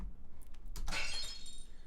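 Glass is smashed once in a room, with a sharp shattering burst near the middle followed by a long, bright, wet reverb tail that lingers and slowly fades.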